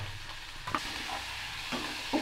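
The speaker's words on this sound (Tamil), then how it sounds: "உப்பு சேர்த்துட்டு நல்லா அது தக்காளி வெங்காயம் வெங்காயத்தோடு சேர்த்து தக்காளி நல்லா மசிகிற மாதிரி நல்லா வதங்கட்டும்." Onion and tomato sautéing with salt for chutney, a brief stretch of soft sizzling with a few scraping stirs of a spatula in the pan, quiet and close.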